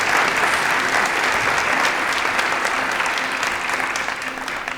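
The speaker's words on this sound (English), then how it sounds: "So let's have a round of applause for June." An audience at an annual meeting keynote gives steady, dense applause that fills the room and fades slightly toward the end.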